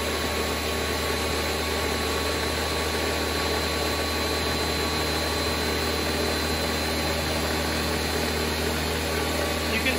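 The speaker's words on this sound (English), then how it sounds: "put this on high and blend it for a full 75 seconds to a minute and a half" A blender runs on high, mixing a Bloody Mary mix with a constant dense whirring roar that holds steady throughout, with no voices over it.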